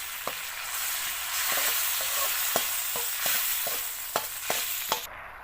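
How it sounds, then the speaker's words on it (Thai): Sour tamarind water goes into a hot frying pan, a loud continuous hiss and sizzle with sharp scraping clicks of stirring spaced through it, close to the listener. "ใส่น้ำมะขามเปรี้ยกลงไป"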